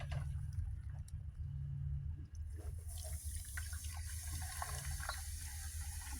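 Water pours and gurgles into a Pentair pool salt cell as diluted muriatic acid is added through the top, a steady close splashing flow over a low background hum.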